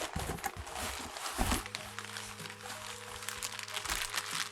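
Plastic packets of Chinese instant noodles from AliExpress crinkle and rustle as they are handled, loudest in a close burst at the start before easing into lighter scattered crackles over a steady background hum.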